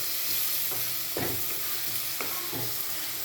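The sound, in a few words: onions and green chillies frying in a pan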